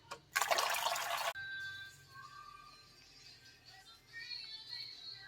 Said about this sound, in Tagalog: So in a big pan, we'll add some brown sugar and some water.